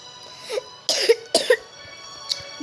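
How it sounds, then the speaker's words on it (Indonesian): A player coughing during a game session, three or four separate coughs in short bursts with short gaps between them, close and fairly loud in an otherwise quiet room. "Batuk mulu gue, heran tuh."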